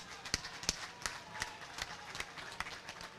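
Applause from the audience at a university commencement convocation for the graduate and professional school valedictorian: scattered, uneven claps from a moderate crowd, fairly quiet and a little distant, continuing steadily for a few seconds.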